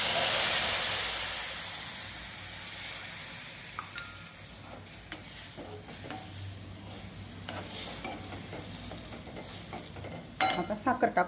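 Milk poured into roasted semolina in a pan on medium heat for sheera: a loud hissing burst that quickly fades into a softer simmer, with intermittent spoon scrapes and taps as it is stirred, ending in a few quick knocks.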